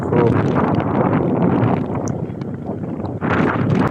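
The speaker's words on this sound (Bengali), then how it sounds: "খুবই বাতাস" Strong wind beside a river buffets the microphone continuously in loud, rough gusts throughout.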